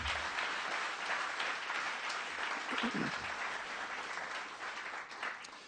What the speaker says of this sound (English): So round of applause for those guys too.